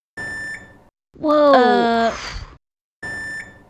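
A self-checkout machine at a grocery store gives two short, steady electronic alarm tones separated by a gap, while a person's loud drawn-out exclamation fills the space between them.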